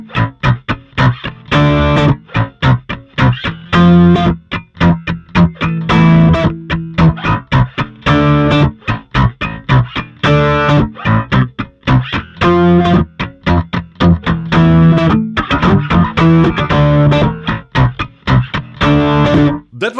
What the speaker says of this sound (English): now let's turn it all the way down, add a little bit of distortion